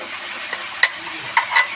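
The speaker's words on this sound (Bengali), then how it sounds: "আমি এটাকে মিডিয়াম আঁচে ভালো করে ভেজে নেব ঢাকা দিয়ে।" Bread pizza topping frying over medium heat in a covered pan, a low steady sizzle broken by a few sharp spits and pops, close and alone.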